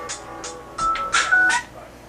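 A phone goes off in a home kitchen during baking, giving a quick series of short electronic beeping tones, moderately quiet and close by, with no talking over it.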